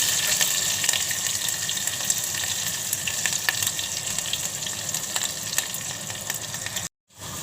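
Green chillies dropped into hot oil in a home kitchen pan, giving a steady loud sizzle and crackle that runs unbroken for several seconds before a brief dropout.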